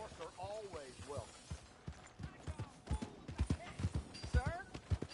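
Horse hooves clip-clop on the ground in the video game Red Dead Redemption 2. The steps come irregularly and moderately close, with spoken dialogue at the start and near the end.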